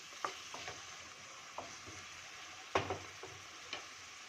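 Pav bhaji masala and red chili cooking in a pan, with a faint steady sizzle of frying and a few sharp spoon scrapes and taps while the mixture is stirred.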